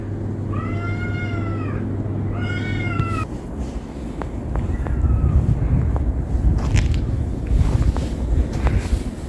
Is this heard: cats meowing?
yes